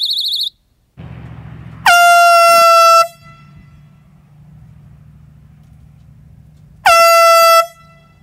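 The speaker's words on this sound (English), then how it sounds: "And number three is the air horn." Two loud air horn blasts sounded close by for personal self-defense, each about a second long with a bright harmonic tone. Between them comes a faint low background hum. A short high electronic chirp is heard at the start.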